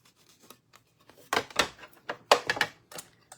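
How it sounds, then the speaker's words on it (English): Scissors cutting out paper flag pieces for a craft, several close, crisp snips in quick irregular bursts after a quiet start. "let's cut out the rest of these pieces"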